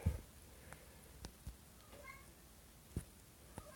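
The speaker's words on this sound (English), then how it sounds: "Got that unhappy cat in the background" An unhappy cat meows faintly somewhere in the background, a few short cries spaced out behind quiet room noise, with no talk over it.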